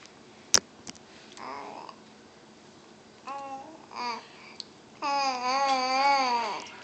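A three-month-old baby babbles and coos close by in a string of short vocal bursts, ending in a longer, wavering coo.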